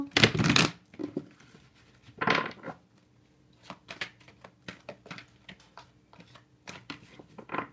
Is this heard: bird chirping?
no